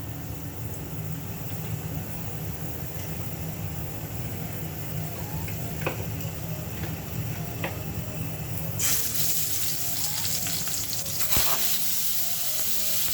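Hot oil sizzles in a pan for Assamese fish cooking, a steady frying hiss that swells suddenly louder and brighter partway through, with a few light clinks, no voices.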